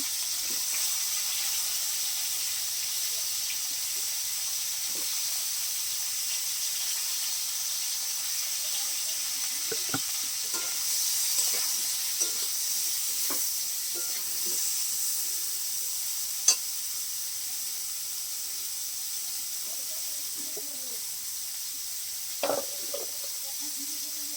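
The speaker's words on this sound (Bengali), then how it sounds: "একসাথে ভেজে দিচ্ছি" Steady sizzling of rohu fish frying in hot oil in a wok throughout, with occasional soft clicks and scrapes of stirring.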